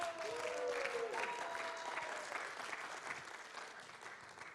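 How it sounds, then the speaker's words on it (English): A small audience at North Park Church applauds at a movie competition, soft steady clapping heard from a distance with faint cheers and murmuring at the start. "thanks for that great resounding applause"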